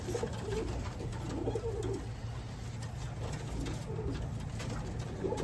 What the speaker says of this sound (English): So Broke Leg is a good looking pigeon.